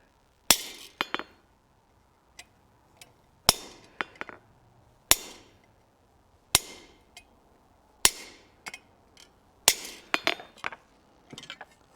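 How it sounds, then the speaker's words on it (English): Sharp metallic hammer strikes on hot metal during blacksmith forging ring out one at a time at an irregular pace, each a bright clink with a short ringing tail, some followed by quick lighter taps from a lighter hammer. "and refine this shape with a lighter hammer"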